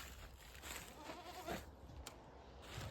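Goats bleating on a farm, a few short calls at moderate distance over steady low outdoor background noise, with no talking.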